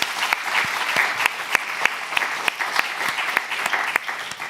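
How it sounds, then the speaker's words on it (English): Steady applause from an audience at a Nordic Day event in Reykjavík, thanking a group of panellists; even, moderately loud clapping with distinct individual claps standing out close by, and no talk over it. "Can we give them all a round of applause, please?"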